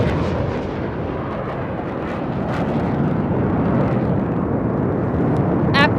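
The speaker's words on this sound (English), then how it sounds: "a single Rafale aircraft flying at a speed of 900 kilometers per hour, carrying out a vertical Charlie" A single Rafale jet flies a vertical Charlie manoeuvre at about 900 km/h over a parade, a loud sustained broadband roar that fills the air and holds steady throughout, with a brief crackle near the end.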